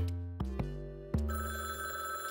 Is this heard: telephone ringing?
yes